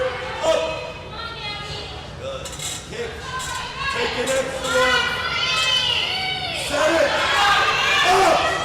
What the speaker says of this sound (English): A lot of support from the crowd.